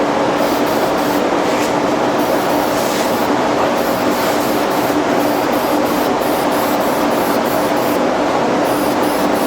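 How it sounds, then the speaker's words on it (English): A spray can of blue high-temperature enamel hisses loudly and continuously as paint goes onto a forged blacksmith hammerhead, with a few quick breaks in the spray. "put some light forward blue high temp enamel on it, pretty much just to use up the can of spray paint"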